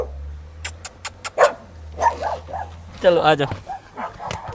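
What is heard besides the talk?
dogs barking in a village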